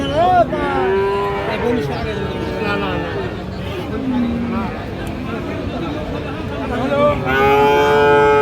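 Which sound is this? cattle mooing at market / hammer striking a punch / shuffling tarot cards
cattle mooing at market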